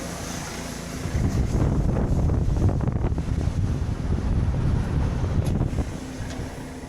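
Breezy morning wind gusting outdoors in cold weather, buffeting the microphone with a loud, rumbling low roar that swells and eases over several seconds, with no voices.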